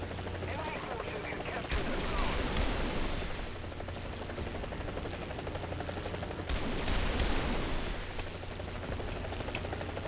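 Rapid artillery and gunfire barrage in War Thunder combat, with dense overlapping blasts and sustained rumbling plus two sharper bursts of impacts, loud and continuous throughout.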